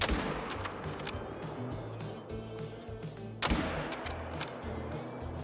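A single loud hunting rifle shot cracks out partway through, in the hunting video game Call of the Wild, over a steady outdoor ambient background with a few fainter, sharper clicks earlier on.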